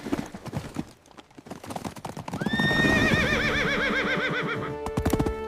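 Horses whinny loudly with rapid clip-clop hoofbeats of galloping as they carry riders away in an escape, the neighs rising over a busy, dramatic background.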